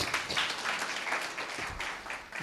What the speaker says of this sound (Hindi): जी, फिर से ताली हो जाए।